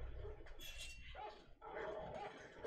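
Dogs bark in an episode of the anime Vinland Saga, faint and distant: short yips and barks come through a quiet, muffled mix.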